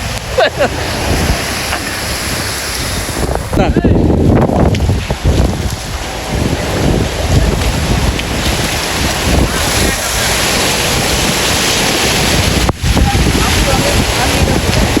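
Storm wind blasts across the microphone during flooding in Jaffna, loud and gusty, with a brief heavier gust and a sharp knock partway through.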